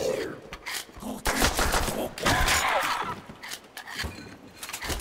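Gunfire in a Call of Duty custom-mod match on a Fortress map: dense, rapid bursts of shots and impacts fill the mix in clustered volleys, loud and close, with voices talking over them.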